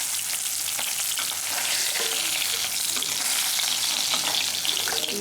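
Rohu fish frying in hot oil, a dense continuous sizzle and crackle close up, with faint clinks from utensils and no talking.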